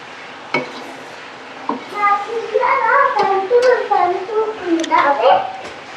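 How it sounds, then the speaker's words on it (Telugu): A spoon scrapes and clinks against a pan of homemade ghee heating on a stove, with sharp metallic taps among near, continuous talking voices. "సో ఇది డైరెక్ట్గా తను స్టవ్ మీదుగా వే వేడి చేయడం కోసం ప్యాన్లో వేసుకుంటా ఉంది ఇలా చిన్నగా కలుపుతూ కలుపుతూ ఉండాలి"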